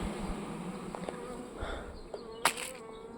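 A dense, steady buzzing of a honeybee swarm fills the air, with occasional closer bees droning past and a brief sharp knock near the end.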